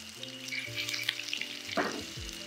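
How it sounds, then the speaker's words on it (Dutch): Chickpeas, green onions and garlic frying in a pan, giving a close, bright sizzle with crackling spatters and a brief stir near the end. "Even laten bakken."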